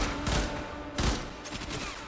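Gunfire in the Warframe video game: a broadband burst of shots near the start and another at about one second, with a dense rattle of weapon fire and combat noise continuing between and after them.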